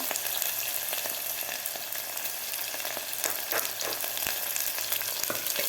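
Sliced onion frying with cumin in a pan for Khandeshi-style black masala khichdi, a dense continuous close sizzle with occasional light stirring taps.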